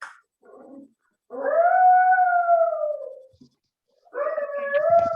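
A dog howls in two long, drawn-out rising and falling tones separated by a pause, with a short whimpering yelp at the start; the howls are fairly close and clear against silence.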